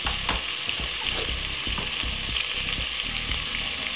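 A teaspoon of butter sizzles in a pan with a little olive oil, giving a loud, continuous close-up frying crackle with some stirring scrapes and no talking.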